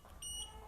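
A DC UPS module's buzzer gives a single short electronic beep, high and steady, heard faintly and alone.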